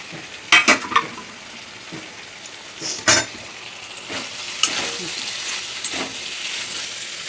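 Poppy seed paste sizzling and frying in a pan with stirring scrapes and a few sharp clatters of utensil on the pan, a steady hiss underneath throughout.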